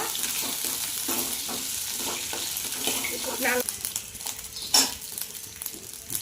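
Curry leaves fry in hot oil after peanuts, giving a steady broadband sizzle with a few scraping stirs and a sharp clink near the end, close and alone.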